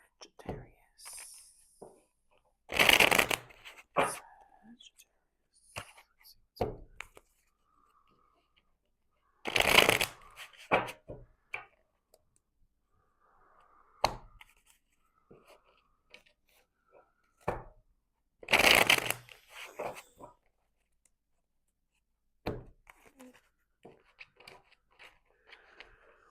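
Tarot cards shuffled in three short, crisp riffling bursts spaced several seconds apart, with soft whispery handling noises and quiet movements in between.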